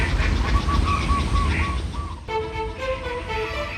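Philippine ducks call at a lake, a series of repeated, fairly loud nasal calls in quick succession, the calling continuing over a steady outdoor background.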